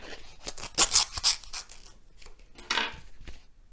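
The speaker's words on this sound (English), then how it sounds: "Let me rip it open." Paper of a stamped envelope tearing open indoors, a quick series of crisp rips and crackles followed by a second louder tear, close up with no talk.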